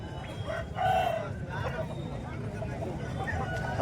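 At the Bhadradri Kothagudem hen market, a rooster lets out a clear crow early on among hens, set against a steady murmur of crowd chatter and nearby voices.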